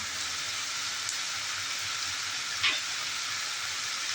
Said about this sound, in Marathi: आपण शेजवान सॉस घालून घेऊया